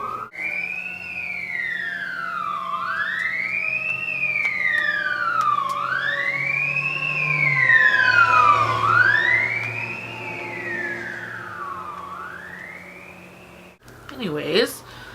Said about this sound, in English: I'm sorry if you can hear those sirens.